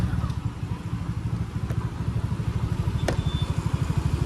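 A motorcycle engine idles steadily after a first-kick start, a close, even low-pitched chugging that carries on without a break and with no talk over it.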